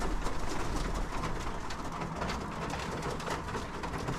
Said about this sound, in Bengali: এই যে কালারফুল কবুতরটা ও প্রতিদিন আসে এখানে